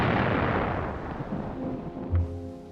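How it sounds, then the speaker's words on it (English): Heavy artillery booms in a broad, rumbling roar from wartime bombardment, loud at the start and fading over a few seconds, with a smaller thud near the end. "After a heavy artillery bombardment,"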